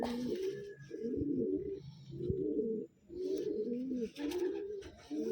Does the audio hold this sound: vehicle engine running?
no